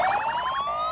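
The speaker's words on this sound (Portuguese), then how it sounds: "arregaça nessa sirene, Gesiel." A police-style siren sound effect plays loud and alone, warbling in a fast rising-and-falling wail over a steady tone during a midday Brazilian news program.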